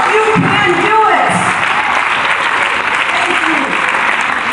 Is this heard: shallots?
no